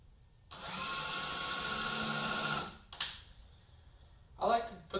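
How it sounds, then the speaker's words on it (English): A power drill runs in one steady two-second whine as it bores a hole in wood, close and loud, followed by clunks and rustling as the bit is withdrawn and handled. "I like to put the drill into reverse when I bring it out"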